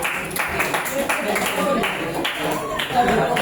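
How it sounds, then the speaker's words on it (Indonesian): Scout group audience applauding, a dense, continuous patter of hand claps filling the space at moderate loudness, with voices talking over it. "Beri tepukan."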